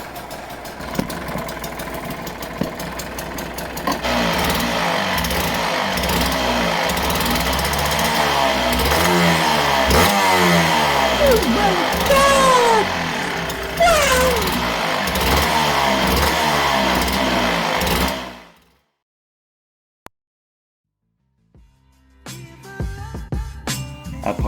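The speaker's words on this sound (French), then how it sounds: "Après avoir laissé la moto monter en température" A Yamaha DT125 motorcycle engine runs while warming up, idling loudly and then revving in uneven bursts before cutting off abruptly into silence, followed by faint clattering nearby.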